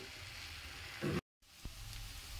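Banana flower (koldil) sizzles softly as it fries in a pan. The crackle is faint and steady and breaks off for a moment partway through.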